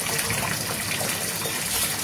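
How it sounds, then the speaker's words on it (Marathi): Water pouring from a Nandi-mouth spout into a lotus pool in a Ganesh festival decoration, a steady close gushing flow with no other sounds. "गोमुखातून, नंदीच्या मुखातून असं पाणी येत आहेत"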